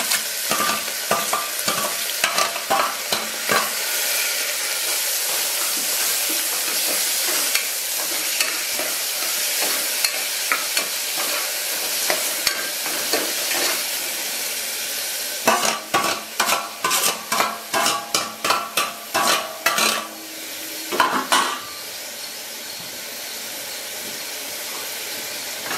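Tomato, onion and chilli sizzle loudly in a pan for a spicy oatmeal dish. A utensil scrapes and stirs repeatedly, with bursts of rapid strokes over a constant frying hiss.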